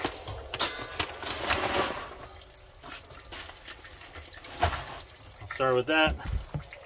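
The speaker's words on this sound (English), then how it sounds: "measure it out as the tank fills" Water pours into a reef aquarium tank being filled over rock salt, a soft running and splashing wash with brief drips, heard beneath someone talking nearby.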